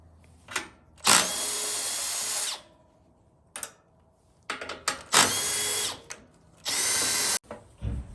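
A power drill driver spins out the 10mm bolts of the rear radiator baffle on an Avant 528 loader. It makes several loud, close bursts of whirring, each lasting one to two seconds, with quiet pauses and small clicks between them.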